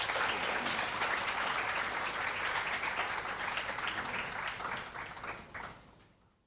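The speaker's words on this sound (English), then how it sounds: "Can we give him a round of applause as he comes up?" An awards ceremony audience gives a round of applause as a recipient comes up, a full burst of clapping that gradually thins and fades out over several seconds.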